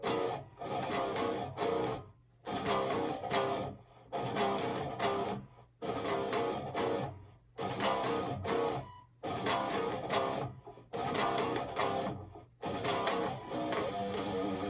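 A distorted electric guitar plays a riff slowly, repeating in evenly spaced chugging bursts separated by short gaps, loud and close.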